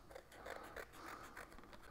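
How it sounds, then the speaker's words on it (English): Scissors cutting through folded card for a hand puppet craft: a quiet, close series of about five crisp snips at an even pace, alone without talk. "take the scissors"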